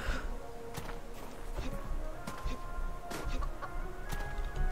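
A chicken clucks repeatedly in the survival game Subsistence, sharp uneven clucks and squawks popping up every second or so over a low ambient bed, fairly close, with faint background noise and no clear talk.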